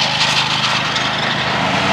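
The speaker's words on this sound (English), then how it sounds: "That lawnmower is probably so loud in the background" A lawn mower drones steadily and loudly in the background at a golf course, a constant engine buzz filling the whole moment with no speech.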